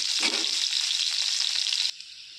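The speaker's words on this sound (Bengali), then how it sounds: "কড়াইতে তেল দিয়ে উচ্ছেগুলোকে ভেজে নিচ্ছি" Bitter gourd frying in hot oil in a wok: a close, steady sizzle with a short stirring scrape near the start, then the sizzle drops to a quieter hiss.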